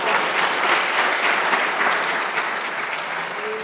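Church congregation applauding, steady loud clapping from many hands that fills the whole stretch and fades slightly toward the end.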